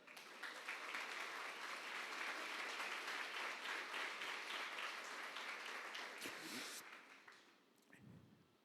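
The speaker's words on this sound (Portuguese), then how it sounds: "Pode aplaudir o Senhor mesmo." A church congregation breaks into sustained applause during a worship service, a dense, even roar of clapping that holds for several seconds before tapering off toward the end.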